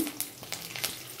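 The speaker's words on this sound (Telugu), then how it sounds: "పప్పులు వేసేసాను." Unhulled lentils hit hot oil in a pan while tempering for brinjal chutney: a short, bright sizzle with a few crackling pops, close by and without speech.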